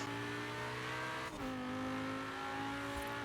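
A Lamborghini accelerates hard in the racing game Forza Horizon 4, its engine a loud, steady, climbing roar with one quick gear change partway through.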